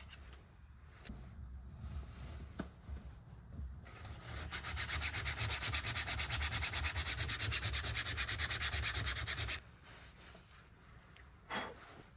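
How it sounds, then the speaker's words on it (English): A hole in a car panel on a junkyard MK4 Volkswagen Jetta Wolfsburg is sanded in a steady, rasping scrub lasting several seconds, loud and close, with softer handling noises before and after. "I need to sand out this hole."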